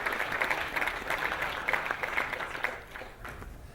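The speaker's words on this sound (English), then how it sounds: "Let's give Ted Broman a big round of applause." A lecture audience gives Ted Broman, a speaker at an executive lecture, a round of applause: a moderate, steady clatter of many hands that thins out toward the end.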